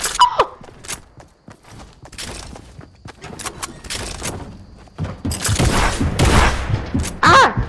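Gunfire and impacts in the Fortnite video game, scattered sharp bursts and thuds of varying loudness, growing denser and louder toward the end.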